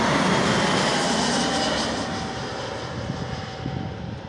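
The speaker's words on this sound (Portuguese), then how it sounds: "Aqui tem avião descendo." A passenger airplane descends low overhead on approach to land near a boulevard park in Porto Alegre, its engine roar loud and steady at first, then easing slightly as it passes.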